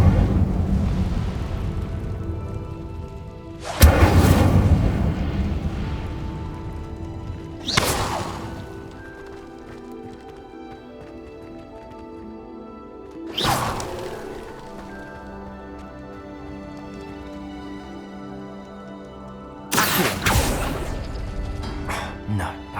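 Incendio fire spell being cast in Hogwarts Legacy: four loud whooshing blasts spaced several seconds apart, each rising sharply and trailing off, over game music and ambient sound.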